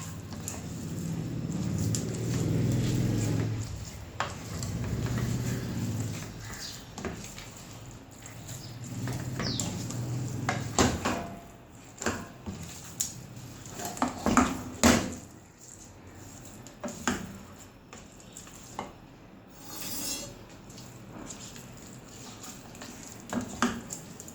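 Semolina roasting in ghee in a pan for a Punjabi makhandi halwa, with a thick low rumble at the start, then scattered spoon scrapes and soft stirring knocks, close and moderately quiet.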